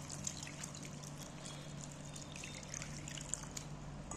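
Water is poured over grated carrots and potatoes to rinse them, giving a faint, steady trickle and splash that runs through the whole moment with no talk.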